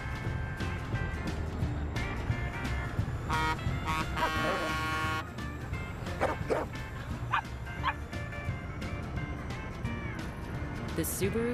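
A dog yips and barks in a Subaru Forester car advert, several short excited barks and whimpers mixed with music and other sounds.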